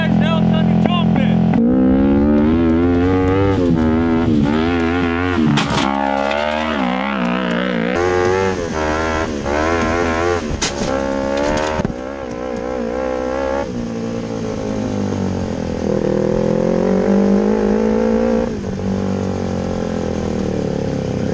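A custom shifter off-road buggy's engine rips through repeated revs and gear changes, rising and falling in pitch over a loud, continuous drone, with occasional speech mixed in.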